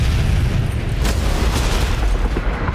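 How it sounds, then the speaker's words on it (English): A bomb blast destroying the Kremlin in the Mission: Impossible – Ghost Protocol movie trailer, heard as a loud, deep, sustained rumbling boom that fills nearly three seconds without a break. "a bomb blew up the Kremlin."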